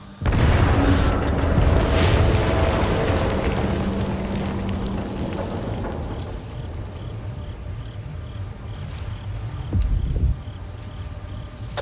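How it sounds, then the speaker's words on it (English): Explosion in the video game S.T.A.L.K.E.R. 2, a loud low rumbling boom that rolls on and slowly fades into a long noisy tail with a smaller thump near the end. "I think the explosion was only on my end."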